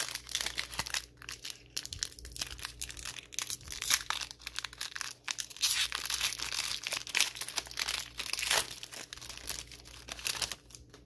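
A Pokemon card booster pack from a Pikachu VMAX Premium Collection is torn open close up, giving steady crinkling and tearing of the foil wrapper for several seconds with no talking.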